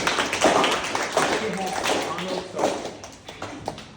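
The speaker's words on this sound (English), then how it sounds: "give your guys yourselves a hand of applause for dealing with me today" An audience at an entrepreneur's presentation in the Red Valley Chapter House gives a round of clapping, a busy patter of hand claps with voices talking and calling out over it throughout.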